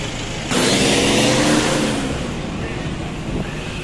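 Road traffic in Cotabato City heard from a moving jeepney, with a loud, steady engine roar and rushing road noise that surges, then settles into a continuous rumble, with no talking.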